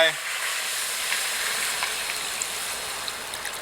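Pork simmering in a pot after water is added, a steady soft hiss and faint bubbling that carries on quietly throughout with a few small clicks.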